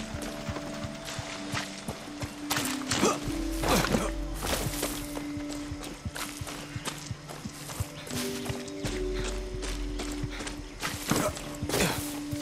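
Horse hooves clip-clopping in the Far Cry 6 video game, a steady walking gait running throughout over game music and ambient sound, with an occasional whinny.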